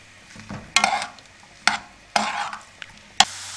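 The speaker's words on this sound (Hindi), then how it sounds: "अब इसको हम सरसों के तेल में फ्राई करेंगे" Carrots frying in mustard oil over a medium flame, heard as sizzling bursts with intermittent stirring scrapes in several distinct pulses, fairly close and alone.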